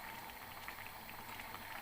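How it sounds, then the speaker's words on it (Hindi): A pot of saag greens simmers on the stove with soft, continuous bubbling and faint popping, quiet and steady throughout, with no voices. "ये साग जो है वो पकना शुरू हो गया है"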